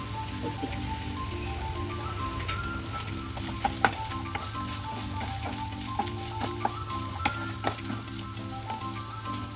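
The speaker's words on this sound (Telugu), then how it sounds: "ఇవి తొందరగా ఫ్రై అవ్వడానికి కొద్దిగా సాల్ట్ దీంతోనే ముందుగా వేసేసుకున్నాం" Salted bitter gourd pieces fry in a pan with a steady, close sizzle and crackle, punctuated by occasional louder pops, with no talking over it.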